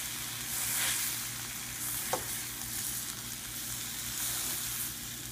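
Chicken francese cutlets sizzle steadily in a frying pan, a constant close crackle of hot oil with one brief sharp tap partway through and no talking.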